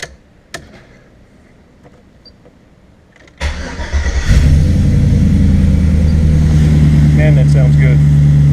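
A 1998 Jeep Cherokee with a swapped-in 5.3 V8 engine starts after a quiet pause and a click, catches with a rising rev, then settles into a loud, steady rumble.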